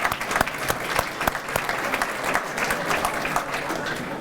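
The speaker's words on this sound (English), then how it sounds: "if you join me in a round of applause for those folks" A dinner audience gives a round of applause for the servers and dining staff after a meal, with steady, dense clapping and a few sharper claps standing out over a faint crowd murmur.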